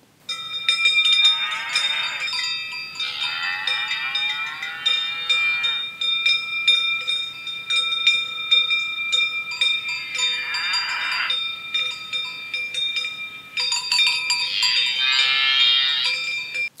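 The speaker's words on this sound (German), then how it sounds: "Mit F23 schalte ich den Sound einer Kuhweide ein." Cow pasture sound effect played through a model train sound decoder on a Hobbytrain Zugspitz-Bahn locomotive: several drawn-out cow moos over a steady background with tinkling cowbells, with no voices.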